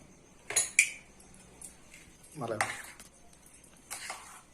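A spoon clinks sharply against a bowl while egg and bread are mixed: a pair of bright clinks, a softer scrape, then another clink. A voice is briefly heard in between.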